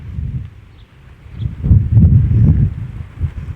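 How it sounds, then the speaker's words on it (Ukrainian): Gusty wind buffets the microphone in low rumbling surges, swelling louder midway through before easing off. "Ще й вітер трошки заважає."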